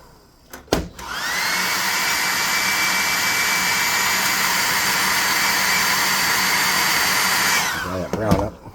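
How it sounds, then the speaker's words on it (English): A hot air gun blows steadily to dry brown paint on a miniature bugbear figure, a loud, even whirring roar that starts abruptly, holds for about seven seconds and then cuts off, with brief clicks before and after. "We're going to use a +2 hot air gun of burning."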